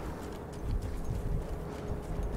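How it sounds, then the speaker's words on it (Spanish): Horse hooves clip-clop through a war video game as enemy cavalry charges, a dense, steady thudding over rumbling battle noise with no talk. "Caballo, vale."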